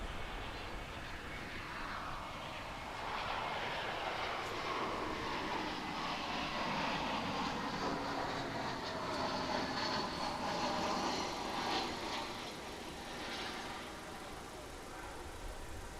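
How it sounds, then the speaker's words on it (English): An American Airlines Airbus A321 arrives at DFW International Airport from San Diego, its engines a faint, steady whine and rumble with a slowly shifting pitch as it approaches and passes. "Coming in now from San Diego is American Flight 313."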